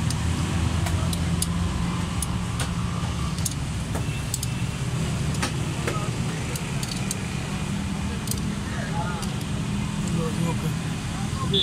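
A Hyundai Santro car engine with a misfire runs at close range under steady throttle, producing a continuous low rumble with scattered light clicks and rattles throughout.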